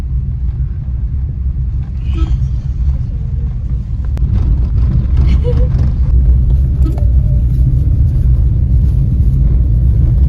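A car's engine gives a steady, low rumble throughout, close and constant, while the car waits with a baraat wedding procession in Himachal. Muffled voices and background activity can be heard alongside it.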